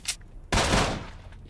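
Gunfire in S.T.A.L.K.E.R.: Shadow of Chornobyl, fired to shoot a container open: a faint click, then one loud, close burst that rings out and decays over about a second.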